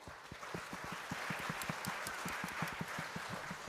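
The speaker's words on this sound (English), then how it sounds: "Everybody knows how to clap." Audience clapping hands together at a business challenge event, a fairly faint, steady rhythmic patter of many hands keeping a regular beat throughout.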